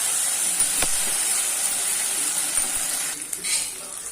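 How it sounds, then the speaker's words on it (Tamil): Green chillies are sautéed over a low flame for mutton boti varuval, giving a continuous soft sizzle with occasional stirring clinks from a utensil in the pan; no one speaks. "சிம்மிலே வச்சு வதக்குங்க, அப்போ தான் நல்லா வதக்கும்."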